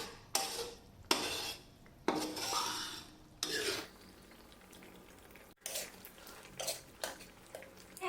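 Spoon stirring a thick beef massaman curry in a metal pan, repeated scraping strokes against the pan bottom in bursts, close and clear with no talking.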